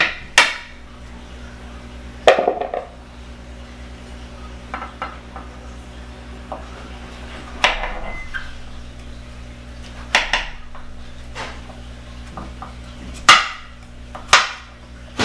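Knife chopping butternut squash into bite-size pieces on a cutting board, with sharp, irregular knocks spaced every second or two amid quieter clinks and a steady low hum in the background.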